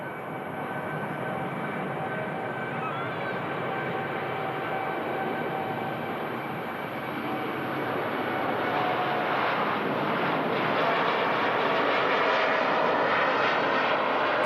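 An airliner departs Manchester Airport, its jet engines roaring in a broad continuous rush that builds gradually louder toward the end of the takeoff run.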